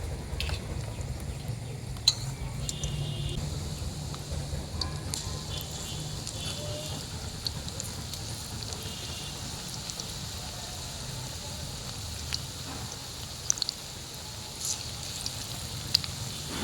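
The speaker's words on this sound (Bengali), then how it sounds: "আমি আর দুটো পকোড়া দিয়ে দিচ্ছি এর মধ্যে।" Cauliflower pakoras sizzle in hot oil with a steady, soft bubbling crackle and occasional faint clinks, heard close and fairly quiet, with no talking.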